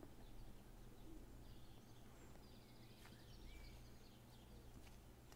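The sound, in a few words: birds singing in the video game Everybody's Gone to the Rapture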